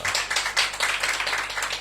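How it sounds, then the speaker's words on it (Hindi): A congregation clapping at a church gathering, a short burst of uneven, fairly soft hand claps in a loose rhythm lasting under two seconds. "आपकी तालियों में कंजूसी थी।"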